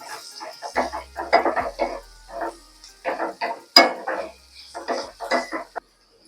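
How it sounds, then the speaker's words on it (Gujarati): Onions being sautéed in a pan for Kathiyawadi-style urad dal: a spoon repeatedly scrapes and clinks against the pan in uneven bursts, with faint sizzling underneath and no talk. "કાંદા સહેજ ગોલ્ડન બ્રાઉન થાય ત્યાં સુધી આપણે તેને સાતળી લઈશું."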